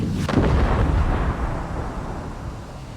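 A single heavy cannon blast in the Forts RTS game, a loud close boom with a deep rumbling tail that fades over about two seconds, no talk.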